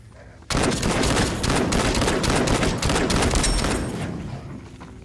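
A loud, sustained volley of rapid gunfire from a shooter game, dozens of close, crackling shots packed into a dense burst that gradually thins out toward the end.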